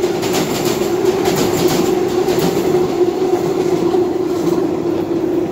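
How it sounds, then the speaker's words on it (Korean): Seoul subway Line 2 train crossing the Jamsil railway bridge over the Han River, a loud, sustained roar of wheels on steel with a faint rhythmic clatter running throughout, no talking. "지하철 2호선이 또 잠실 나루역을 출발해서 북쪽 강변역을 향해서 질주를 하고"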